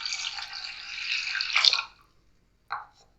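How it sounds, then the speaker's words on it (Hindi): Water poured into a cup of lentils in a pot, a soft steady splashing stream for about two seconds that stops abruptly, followed by one brief faint trickle. "एक कप दाल में मैं 3 कप पानी डालूंगी।"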